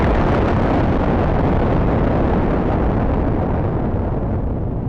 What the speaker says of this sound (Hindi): साइंटिस्ट की टीमों ने जितना एक्सपेक्ट किया था उससे कहीं ज्यादा धमाका करता है ये बॉम्ब।